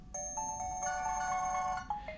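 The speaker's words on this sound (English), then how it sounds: "with so many different songs you can pick from in terms of your ringtones, you can really stand out from the crowd" An HTC phone ringtone plays a bright, chiming electronic melody of bell-like notes, close and clear, ending in a couple of short tones, with no one speaking.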